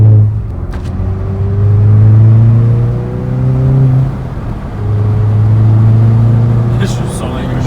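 A Hyundai i20N engine hums and rises in pitch as the car accelerates, eases off, then pulls again. The engine drone is steady and close, and voices talk inside the cabin over it.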